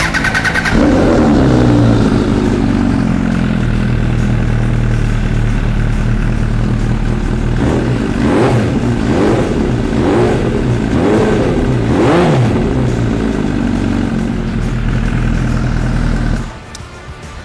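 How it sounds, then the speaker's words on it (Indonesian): A custom MV Agusta F4 R motorcycle engine runs loud and close for about sixteen seconds, holding a steady idle then blipping through several sharp revs around the middle before cutting off abruptly near the end. "bagaimana kalau kita nyalakan engine-nya sekarang"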